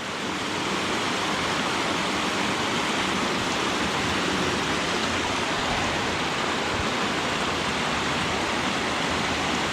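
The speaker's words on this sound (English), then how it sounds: "I love the sound of that water though." Water pours steadily over a beaver dam at a private creekside getaway, a constant broadband rush close by that holds unbroken for the whole stretch with no voices.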